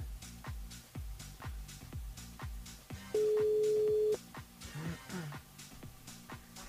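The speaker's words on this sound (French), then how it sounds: "Et ben ça sonne." On a radio show phone line, a steady electronic telephone tone sounds for about a second midway, set among rhythmic thumping music beats and brief background noise.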